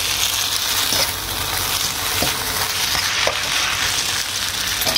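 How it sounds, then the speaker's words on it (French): Pork pieces fry in a pan with a splash of soy sauce, giving a loud continuous sizzle close up, with a few faint clicks of stirring and no voices. "on les fait rôtir un tout petit peu. On y rajoute un tout petit peu de sauce soja"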